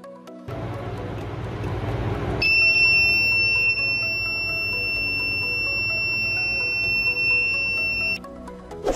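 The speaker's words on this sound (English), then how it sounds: "we are going to make a simple water level indicator circuit with buzzer indicator and ATtiny85 microcontroller." A piezo buzzer on an ATtiny85 water level indicator circuit sounds a continuous shrill, steady tone for several seconds over a low background hum, then cuts off abruptly.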